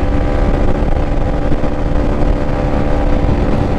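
Yamaha Sniper 155 motorcycle engine running hard in 6th gear at high speed, a loud steady drone with strong low rumble and wind roar, close and continuous with no voices.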